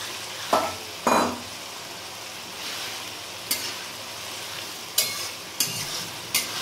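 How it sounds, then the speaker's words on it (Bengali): Four medium chopped tomatoes fry in a hot pan over a steady sizzle, while a utensil scrapes and stirs in several sharp, separate strokes that knock against the pan at irregular moments, with no voices. "এবার আমি এর মধ্যে দিয়ে দিচ্ছি 4টে মিডিয়াম সাইজের টমেটো কেটে রেখেছিলাম, টমেটোটা দিয়ে দিলাম।"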